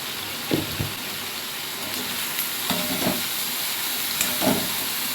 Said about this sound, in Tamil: இந்த காய் எல்லா காயும் போட்டு நம்ம நல்லா வதக்கி விட்டுருவோம் எண்ணெயிலே